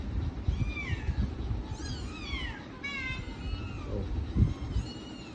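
A mother cat meows repeatedly near her kittens, several drawn-out, wavering calls one after another over a low background rumble and faint handling noises, close to the listener.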